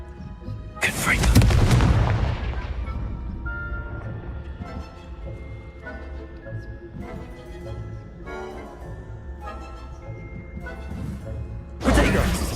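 A Confringo fire spell blast in the Hogwarts Legacy video game bursts loud and sharp near the start, followed by a rumbling, crackling tail over music, and a second blast hits near the end.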